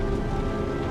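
Steady heavy rain in Red Dead Redemption 2, a dense continuous hiss of drops beating on surfaces, close and even throughout with no voices.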